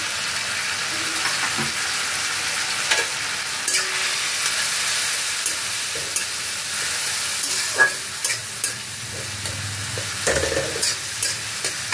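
Masala of turmeric, chilli and cumin powder frying in a pan, a loud continuous sizzle with frequent scraping and clinking stirs close by, no talking.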